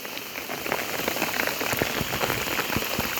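Steady rain patters on a surface nearby, a dense hiss of drops with scattered louder splashes.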